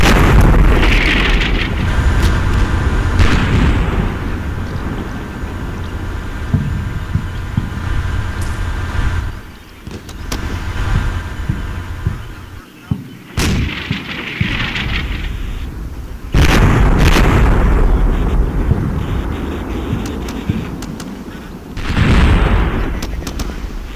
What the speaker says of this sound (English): 105mm strikers to blow a hole in the fortified wall of the compound